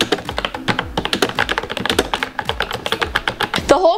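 Rapid, close-up typing on an iPad keyboard accessory: a dense run of crisp key clicks and taps in uneven bursts, with a short pause near the end.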